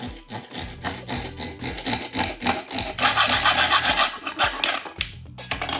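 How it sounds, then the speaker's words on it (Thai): Rhythmic back-and-forth rasping strokes of a saw cutting through the middle of a metal door handle, close and steady, about a dozen strokes. "เราก็มาตัดกึ่งกลางของด้ามจับประตูเรา"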